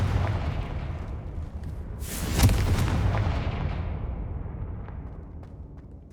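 In the video game Hogwarts Legacy, a Confringo blasting spell detonates with a deep, rumbling boom that swells to a loud peak and then rolls away slowly, underpinned by a steady low roar with no speech.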